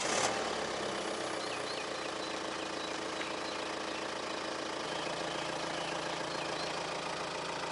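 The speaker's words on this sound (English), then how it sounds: "I'll start the car up" A BMW F31 car engine turns over at the start, then settles into a steady idle that runs continuously and fairly loud, close by.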